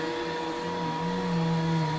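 A vacuum cleaner runs steadily and loudly for the whole stretch, its constant motor drone holding a tonal hum that rises slightly toward the end, with no talk over it.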